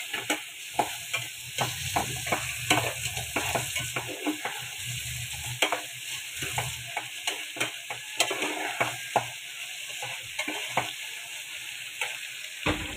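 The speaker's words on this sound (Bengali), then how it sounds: "ডালটা একটু ভুনে নিলে খেতে মজা লাগে" Lentils (dal) are stirred and fried in a pot, producing a steady close sizzle broken by frequent scraping and clinking spoon strokes against the metal, with no voices.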